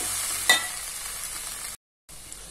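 Okra (ladies' finger) frying in a pan, a steady close hiss with a brief stir click, broken by a short silent gap before the sizzle resumes.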